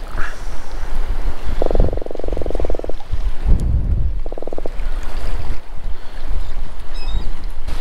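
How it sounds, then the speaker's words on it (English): A caught croaker fish croaks near Port Aransas, Texas, giving two loud buzzing grunts, one long and one shorter, over wind and lapping water near the boat. "You're a croaker because you're just croaking."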